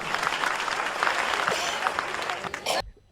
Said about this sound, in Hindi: आइए एक बार जोरदार तालियां मुकेश मासूम के लिए